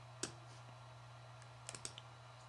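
A computer mouse clicks while dragging an MP3 file onto a desktop editor, one sharp click early, then a quick cluster of two or three soft clicks, faint and close over a steady electrical hum.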